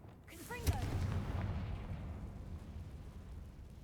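A Confringo fire spell in Hogwarts Legacy launches with a short whooshing cast and a sharp pop, then a rumbling fiery explosion that swells and slowly fades over a few seconds.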